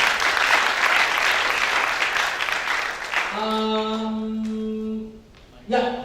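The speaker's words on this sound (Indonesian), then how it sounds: "mari kita sambut sekali lagi dengan tepuk tangan" Audience applause at a scholarship launch event, a loud dense crowd of clapping that fills the first few seconds, then thins as a tonal chime or music sting and a voice come in over the fading claps.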